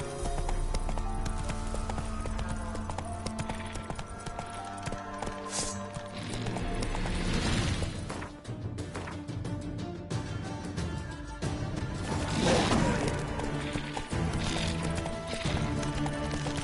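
Hooves of a galloping horse in The Witcher 3: Wild Hunt, rapid rhythmic clip-clop pounding under game music and ambience, with brief swells of wind or movement and a faint voice in places.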